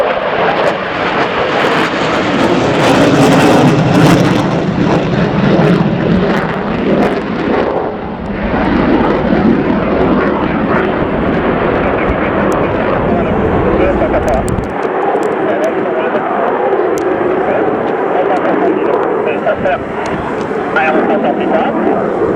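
Loud roar of a pair of Dassault Mirage 2000D jets fills the whole stretch at an air show display, swelling and shifting as they pass, with a voice talking over it.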